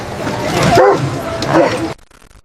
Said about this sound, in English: the German Shepherd lunged toward the Bew suitcase, growling, barking, teeth bared